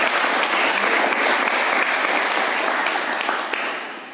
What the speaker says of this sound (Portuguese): Aplauda em nome de Jesus.